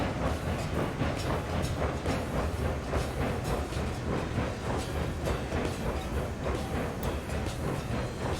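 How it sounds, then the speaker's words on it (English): Steam locomotive in the RailRoads Online video game labouring up a grade, a dense continuous chuffing and rolling rattle with rhythmic beats, loud and steady throughout without talk. "this loco just doesn't have the ability to climb any kind of grade"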